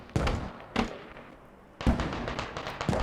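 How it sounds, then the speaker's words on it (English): Explosions in the video game Squad, several sharp booming blasts in quick succession with a short lull between them, heard at moderate distance without talk. "Multiple explosions coming out."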